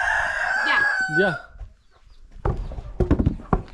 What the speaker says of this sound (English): The rooster's awake right now.